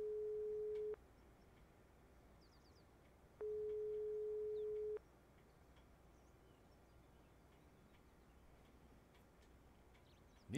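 Two long electronic ring tones of an unanswered phone call in the Broken Sword 5 video game, separated by a pause and then followed by quiet.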